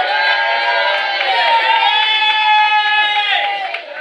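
A crowd cheering and shouting loudly and close, a dense mass of voices with whoops and high cries sustained throughout, tailing off slightly at the end.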